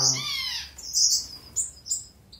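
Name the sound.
finches chirping in an aviary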